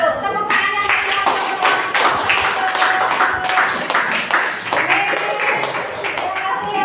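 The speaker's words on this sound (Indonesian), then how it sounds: "Tepuk tangan yang meriah." A classroom group claps in a lively but uneven way, individual hands distinct and close, while voices talk and call out over the clapping.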